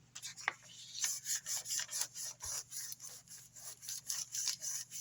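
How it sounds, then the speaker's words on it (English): A polymer clay cane veneer is burnished with rhythmic rubbing strokes, about two per second, a steady close-up scraping swish with no talking. "And now we're going to burnish this."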